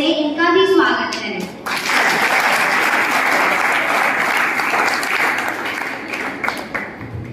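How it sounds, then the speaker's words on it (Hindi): Loud, sustained applause from an audience at a school Guru Purnima celebration, welcoming the institution's president and vice-president; steady dense clapping fills the whole stretch, with a brief voice at the start. "कृपया जोरदार तालियों से इनका भी स्वागत करें"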